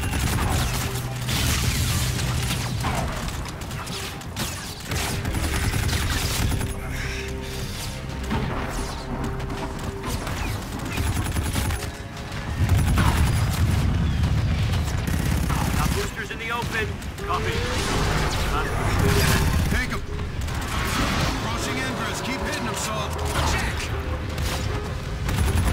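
Gunfire and combat in the shooter Call of Duty: Infinite Warfare: loud, dense bursts of weapon fire, crashes and booms throughout, with voices speaking over the action.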